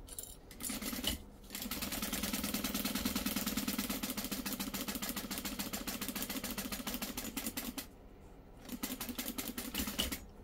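A sewing machine runs steadily, stitching zipper tape with a quarter-inch seam for a Sarah Bag. It hums in close, continuous bursts, with brief pauses between runs and no talking.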